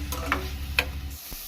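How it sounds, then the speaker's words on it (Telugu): Onion paste fries in a pan with a low background sizzle, broken by a couple of quick ticks of a spoon against the metal, close and brief. "ఉల్లిపాయ ముద్ద బాగా ఫ్రై చేసుకొని పచ్చివాసన పోయే వరకు ఫ్రై చేసుకోవాలి"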